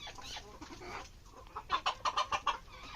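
Two roosters fighting: clucking and scuffling, then a quick run of five or six sharp, close squawking bursts near the end.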